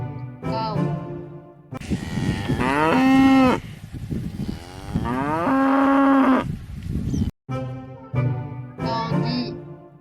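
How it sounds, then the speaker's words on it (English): A cow gives two long, loud, close moos with sliding pitch, while a voice speaks briefly before and after. "cow,"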